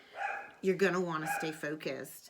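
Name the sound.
dog barking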